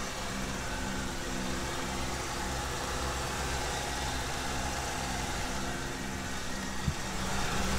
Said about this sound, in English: Engine runs very nice.